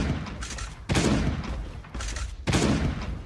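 Shotgun fire in Last Day on Earth, three heavy booming blasts roughly a second apart, each trailing off in a short decay, loud and near with no voices.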